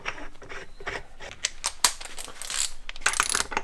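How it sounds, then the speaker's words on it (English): A ratchet torque wrench tightens the rear nut on an HT Brace V2 exhaust brace to 140 Newton meters, giving rapid, close metallic clicks in short bursts with no talking. "Tighten it to 140 Newton meters."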